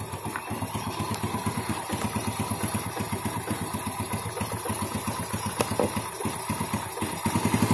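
A Yamaha Vega R motorcycle with a newly fitted aftermarket piston idles close by, its single-cylinder engine giving a steady, rapid chugging pulse that stays even throughout with no talk over it.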